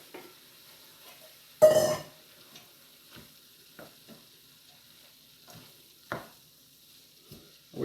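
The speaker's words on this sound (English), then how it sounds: "We're going to put in our onion and our garlic." Onion and garlic being stirred in a pan for lasagna, giving sparse soft sizzles and scattered scraping strokes, with one louder clatter early on in an otherwise quiet scene.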